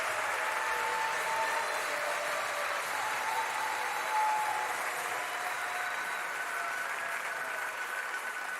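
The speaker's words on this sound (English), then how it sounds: "Let's all give all of our guests one final round of applause" A small audience applauds its guests at an evening community celebration, a steady soft clapping that holds evenly throughout and sounds somewhat distant and muted.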